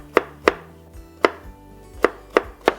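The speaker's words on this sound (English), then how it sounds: "To cut the bigger part of the carrot, what we're going to do is cut it up in little fingers" A knife chops through a carrot on a cutting board, six sharp, close knocks landing at an uneven pace with short pauses between them, no voices.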